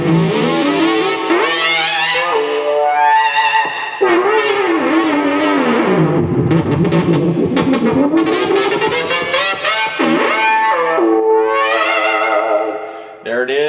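Synthesizer lead notes in Ableton Live 8 play a melodic phrase, each tone trailing into echoing delay repeats and a spacious reverb wash.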